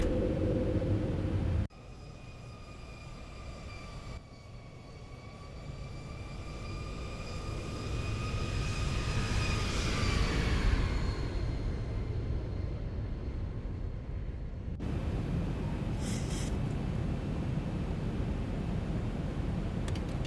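Landing gear lowering on a Boeing 737-800 in a flight simulator: after a sharp cut, a rising mechanical rumble with whining tones builds and peaks mid-clip, followed by a steady roaring drone.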